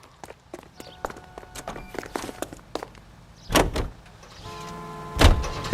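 Footsteps, a car door opening and slamming, then an engine starting and idling in the 1940s-era detective game L.A. Noire, with two heavier thumps of doors shutting near the end.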